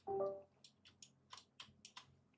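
A computer keyboard being reset, a faint series of separate light key clicks at an irregular pace in a quiet room, after a brief soft bump at the start.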